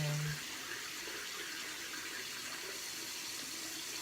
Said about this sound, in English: I just rinse it out and go back in with that same cloth